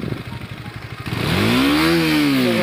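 A parked motorcycle that someone tampered with, leaving its throttle sticking, runs with an uneven pulsing idle and then surges into a loud, sustained rev close by.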